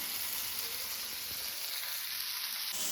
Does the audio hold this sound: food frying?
yes